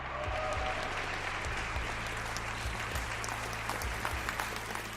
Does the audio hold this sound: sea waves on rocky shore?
no